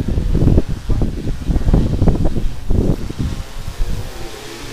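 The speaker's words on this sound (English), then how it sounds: "That wind's pretty rough." Strong wind gusts buffet a microphone on a 12th-floor balcony at Orange Beach, coming as loud, rumbling bursts that rise and fall over a few seconds before easing off.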